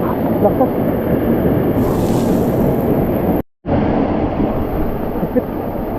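Strong, rough water and waves rushing around a boat in the Philippines, a loud continuous roar with wind buffeting the microphone, briefly cutting out midway.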